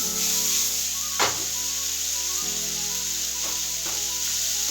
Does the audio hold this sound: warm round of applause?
no